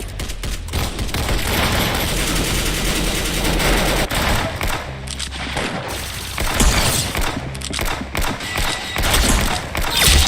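Video game gunfire from a LEGO Star Wars game rattles in dense, loud rapid bursts of automatic shots mixed with thuds and blasts, nearly continuous throughout.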